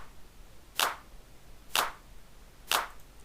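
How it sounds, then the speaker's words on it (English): Three crisp electronic clap hits from an FL Studio drum pattern, evenly spaced about one second apart, sharp and bright over a quiet background. "now we have the pattern for our clap"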